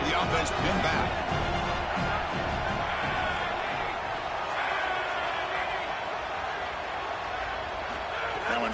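Stadium crowd in the NCAA 27 college football video game, a steady roar of cheering and whooping that swells slightly at the start and holds loud and continuous, with commentary voices talking over it.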